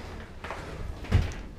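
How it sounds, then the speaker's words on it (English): Sliding shower doors are pushed open in a DIY-built bathroom, giving two short rolling scrapes with a soft thud at the end, close and brief. "Slide the doors open."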